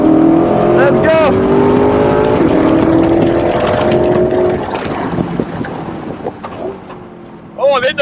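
A Liberty Walk C8 Corvette tears around a race track at about 100 mph, its engine droning loud and steady with pitch shifts, wind buffeting the microphone, and someone talking over it.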